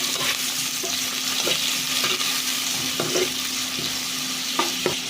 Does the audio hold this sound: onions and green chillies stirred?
yes